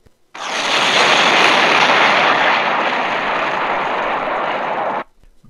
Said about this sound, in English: After he leapt out, suddenly there was a big explosion behind him.